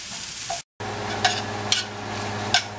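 Mushrooms frying in a pan alongside beef shanks: a steady close sizzle with a few louder stirring scrapes and a brief cut to silence, with no talking.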